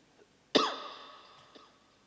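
During a sermon, someone coughs once: a single sharp, close burst that decays over about a second, followed by a faint second hack, against an otherwise quiet room.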